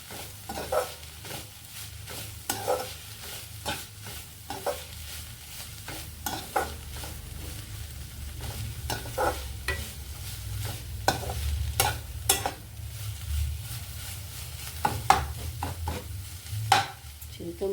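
Fenugreek leaves and tomato chutney cooking in a pan, stirred continuously with a ladle to keep it from burning: gentle sizzling under frequent rhythmic scraping and tapping strokes, close and moderately quiet, no speech.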